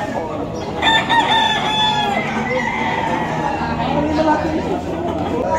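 Gamefowl stags for sale crow amid a busy yard where several people talk and chatter continuously, the rooster calls rising over the steady background voices.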